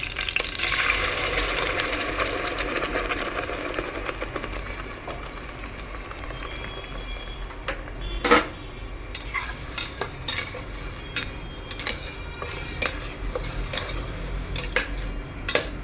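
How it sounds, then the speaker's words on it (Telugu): Masala spices frying in a pan for a broccoli paneer curry, a continuous sizzle with frequent metallic scraping and clinking of a spoon against the pan, close up. "కొంచెం ఫ్రై అవ్వాలండి ఇది మసాలా."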